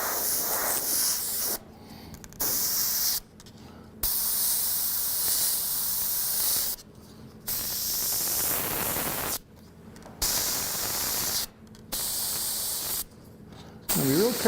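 An airbrush hisses in bursts as paint is sprayed through a small stencil for a realistic fire design, each long spray separated by short pauses, close and steady.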